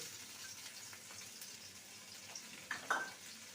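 Quiet, steady sizzling of ginger paste and a green chilli frying in a pan, with a couple of brief sharper crackles near the end; no talking.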